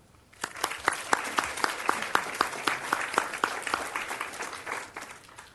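Applause for district volunteers at a Fort Worth ceremony, starting after a brief quiet moment and rising into a moderate, fairly even round of clapping with distinct individual claps standing out.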